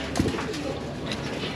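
Young pigeons coo softly at a home loft before their bath, low throaty calls over a constant background hiss, with no talking.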